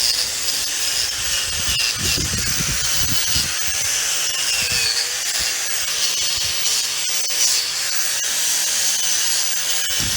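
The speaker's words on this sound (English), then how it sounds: "take a wire wheel and just get all the scuzz off the nut, or off the bolt." A spinning wire wheel scrubs dirt off a bolt and nut on a Minneapolis Moline disk harrow, giving a constant loud, hissing, scratchy whir with some lower rumbling bursts early on and no speech.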